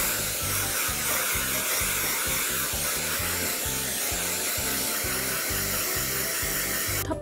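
A Dyson Airwrap blows a steady, loud stream of air while drying short hair, a continuous whooshing roar with a rhythmic pulsing hum beneath it that runs unbroken for several seconds.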